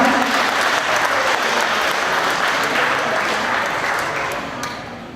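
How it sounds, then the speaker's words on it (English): An award-ceremony audience applauds the grand prize winner of a Corvette giveaway, giving a dense, steady burst of clapping that holds loud and close before tapering off slightly near the end. "give the grand prize winner of the Corvette Dream Giveaway, Mr. John Williamson from Pennsylvania, a big round of applause"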